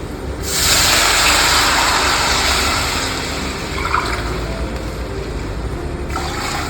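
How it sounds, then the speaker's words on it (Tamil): Three glasses of water are poured into a pan of sautéed ingredients for barnyard millet pongal, a loud rushing hiss that starts after a brief pause and holds steady for several seconds before easing near the end. "இப்போ நம்ம வந்துட்டு 3 கிளாஸ் வாட்டர் ஆட் பண்ணிக்கலாம்."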